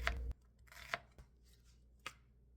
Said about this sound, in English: Now I'm going in chopping a large onion.